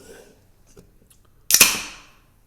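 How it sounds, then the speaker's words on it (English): Cold beer can popped open at home during an NFL Sunday, a sharp hissing crack that bursts loudly after a few quiet small clicks and then fizzes out over about a second, close to the mic. "See a little bit of steam come off when you pop it. It's like the fireworks of beer."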